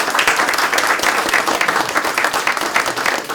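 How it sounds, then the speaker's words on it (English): Loud, sustained audience applause for the panelists at a panel session on veterans coming home, many hands clapping together in a dense, even roar with no voices over it. "So would you please join me in a round of applause for our panelists."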